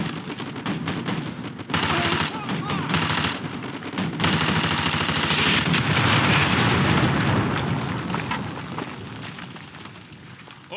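Heavy automatic gunfire and explosions in the Call of Duty Modern Warfare 2 campaign, with sustained loud bursts broken by short gaps and rumbling booms underneath.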